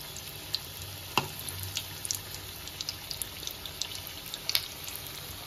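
Egg lollipop balls deep-fry in hot oil over medium gas heat, giving a soft, faint continuous sizzle broken by occasional small pops and crackles, with no talking.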